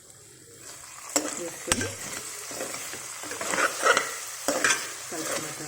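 Cabbage stirred in a pan with soy sauce and tomato sauce for paneer fried rice, a steady sizzle broken by sharp spatula scrapes and clacks, close and moderately loud, with one brief spoken word.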